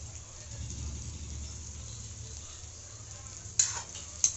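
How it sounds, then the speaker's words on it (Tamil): Coimbatore wedding-style chicken gravy masala, with coriander and mint, is sautéed in a pan. A soft, steady sizzle and stirring are heard, then two sharp spatula knocks against the pan near the end. "இப்போ நல்லா வதக்கியாச்சுங்க. இப்போ ஒரு கைப்பிடி கொத்தமல்லி, புதினா போட்டுடலாம்."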